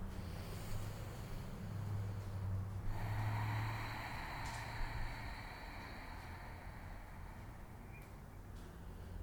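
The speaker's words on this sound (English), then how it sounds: "Ujjayi breath." Slow, steady ujjayi breathing during a yoga practice, a soft ocean-like rushing through the throat, close and quiet with long drawn inhales and exhales.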